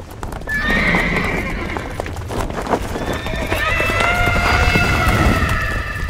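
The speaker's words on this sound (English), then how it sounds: "Slow down, please. You're spooking my horse." Horse neighing and galloping as a vintage radio drama effect, with rapid hoofbeats running throughout under loud, drawn-out whinnies and shrieking neighs.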